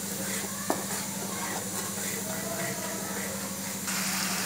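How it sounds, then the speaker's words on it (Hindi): A masala of tomato with garlic-ginger paste frying in a pan gives a steady, dense hiss that runs without a break, with a low hum underneath and a single small knock early on. "अब इसको थोड़ा मिक्स कर देते हैं और इस मसालों को अच्छी तरह से भून लेंगे।"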